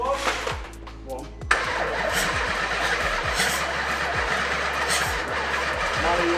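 A 6.0 V12 TDI engine fitted in a VW Amarok starts for the first time. It cranks and catches with a sudden burst, then settles into a loud, steady, deep idle rumble as people talk nearby.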